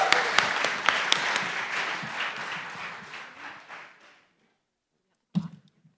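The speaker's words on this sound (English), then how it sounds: "So another huge round of applause to our panel judges and our finalists." An audience applauds judges and finalists at a closing ceremony of a university AI hackathon; dense, loud clapping fades out over about four seconds, followed by silence and a brief thump.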